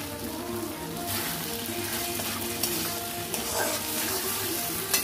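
Sauce goes into a pan of banana flower (mocha) frying with potatoes, rice and spices, giving a steady, close, loud sizzle with a few brief sharper crackles and no voices.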